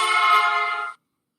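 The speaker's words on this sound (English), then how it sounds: "The horn to you might sound something like this." A passing car horn sounds a single sustained, bright tone for about a second, its pitch sliding slightly downward from Doppler shift as it passes, then cuts off into silence.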